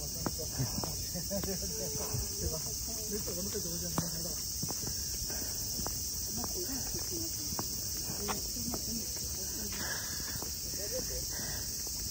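A loud, continuous high-pitched chorus of crickets or cicadas with crows in the Japanese Imperial Gardens in August, with footsteps crunching on stone and a person's voice talking intermittently beneath it.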